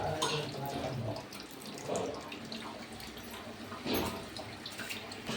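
Water pouring steadily into a pot for cooking six packets of Maggi noodles, a continuous soft splashing stream with a couple of louder gushes, heard close and fairly quiet with no talking.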